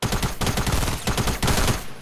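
Video game gunfire rattles in fast automatic bursts, loud and close, broken by two short gaps and with no talking over it.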